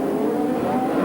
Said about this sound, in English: Now he's got the engine going.